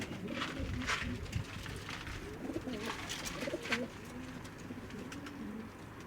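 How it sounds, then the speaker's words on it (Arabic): Soft cooing of a pigeon or dove repeats a few times, mixed with faint outdoor background noise and occasional clicks. "وهذا طير"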